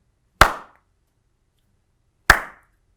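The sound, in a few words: imitating a cowbell rhythm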